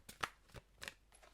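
Playing cards being shuffled at a close-up reading table, with several short riffling bursts separated by brief pauses, fairly quiet and with no talk over them.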